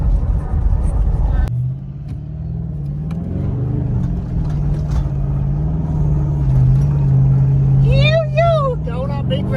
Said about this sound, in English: driving up a sand dune